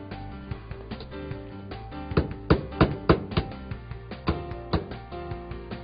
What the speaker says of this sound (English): The heat spreader plates are simply pinned into position to secure them whilst the pipe's being installed.